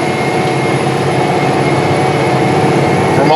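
A 620 hp John Deere 9620R tractor, model year 2019, seeding at 9.5 mph on auto steer, its heavy diesel engine droning steadily and loudly with a constant low hum.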